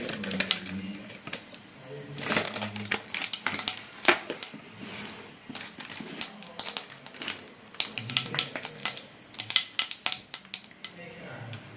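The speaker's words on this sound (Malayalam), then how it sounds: "കടുക് പൊട്ടി വന്നിട്ടുണ്ട്" Mustard seeds crackle and pop in a pan of hot oil for a Kerala okra stir-fry, a steady scatter of sharp irregular snaps, some close and loud, over a soft background hiss.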